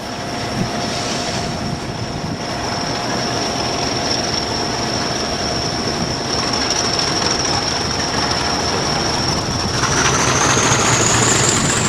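A Pathfinder railtour charter train rolls past steadily and loud, with dense rumbling wheel noise and a sustained high-pitched squeal that rises near the end.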